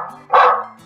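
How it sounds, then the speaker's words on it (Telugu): Recorded dog barking blares from a loudspeaker set up in a crop field at night, a single loud bark burst over a steady electronic hum. "గీ మైక్ అయితే అచ్చం కుక్కరిసినట్టే అరుస్తుంది రో"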